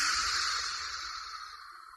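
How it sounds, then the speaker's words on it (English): Wind rushes as a steady, airy hiss with a faint low rumble underneath, holding constant and easing only slightly in loudness, with no other sounds. "Well, I reckon it's the wind."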